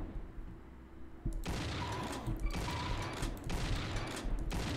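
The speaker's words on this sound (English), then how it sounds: "What is shooting me?" Gunfire in a Doom mod video game: after a quiet hum, a rapid burst of shots erupts and continues in repeated loud volleys with brief gaps, sounding close and sharp.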